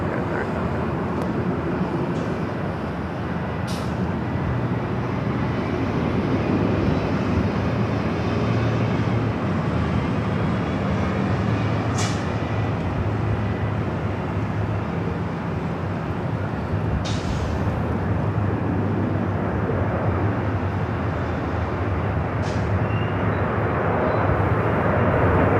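An airliner roars down runway 24 left at LAX for takeoff, a loud steady broadband engine rumble holding for the whole stretch, with a few faint clicks on top.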